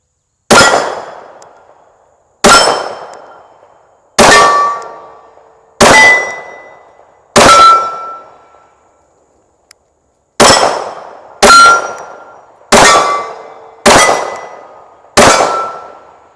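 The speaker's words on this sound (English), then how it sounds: "I happen to have one here at the Buffalo range today, so I thought I'd get it out and shoot it a little bit." A Taurus PT 24/7 OSS DS .45 pistol fires at an outdoor range, ten loud, sharp shots spaced one to two seconds apart, each ringing out with a short decaying tail and a brief pause midway.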